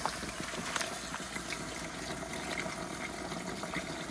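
Water poured from a watering can onto lime during a barn renovation, a steady continuous splashing and trickling close by that runs through the whole stretch with no talk.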